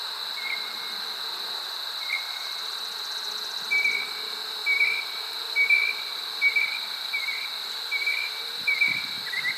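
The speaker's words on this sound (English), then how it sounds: "That's a lot of bees on this frame." Honey bees buzzing over a crowded hive frame, a steady close drone with a high whine running throughout and short brighter buzzes recurring every second or so as individual bees pass near.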